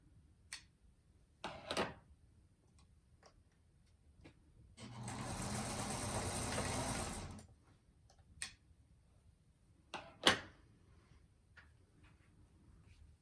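A sewing machine runs for about three seconds stitching a fabric seam for a table runner, a steady whirring burst framed by scattered clicks and handling sounds in a quiet room.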